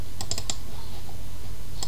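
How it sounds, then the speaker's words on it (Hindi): Sharp mouse clicks on a Windows 10 PC: a quick cluster of three or four clicks near the start, then one lone click near the end, close and clear over a quiet low hum. "पिक्चर्स पे डबल क्लिक करेंगे"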